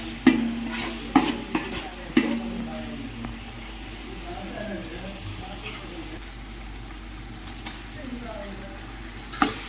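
Coconut, ginger and shallot paste frying and being stirred in a pan, with a low steady sizzle and a few sharp spoon scrapes and clinks early on; a voice speaks faintly at times.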